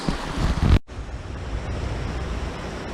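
Steady, full-bodied rush of waterfalls along the Arizona Trail, loud and continuous, with a brief abrupt dropout near the start before the roar resumes.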